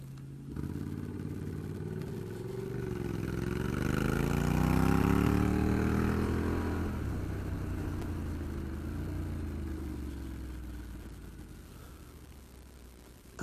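A Honda NM4 motorcycle engine runs steadily nearby for the whole stretch, its pitch rising and falling once as the revs swell, with a car engine idling underneath and no voices.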